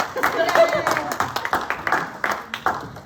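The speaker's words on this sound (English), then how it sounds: "You need to clap, because you're my daughter." Scattered clapping from a small audience at a year 8 graduation, uneven claps from a handful of people over a few seconds, with voices murmuring underneath.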